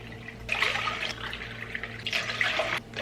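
Water is poured into a big bowl for homemade almond milk in two splashy bursts, close and moderately loud over a low kitchen hum.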